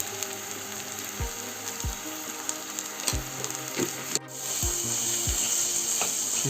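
Fish coated in garam masala, fish masala and salt sizzles steadily in a pan, with repeated wooden scraping and stirring knocks over the constant hiss, close and moderately loud.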